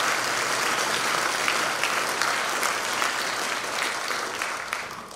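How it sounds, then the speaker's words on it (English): An audience at a high school senior honors night claps for parents and families, a dense, sustained round of applause that stays loud and then slowly tapers toward the end. "Let's give a round of applause to our parents and families."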